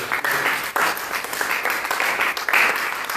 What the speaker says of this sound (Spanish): Denle un aplauso a mi Padre Celestial.